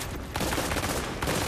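Grenade launcher fire and explosive gunfire in the video game The Division, a dense, loud burst of blasts and crackling shots that fills the short moment with no voices.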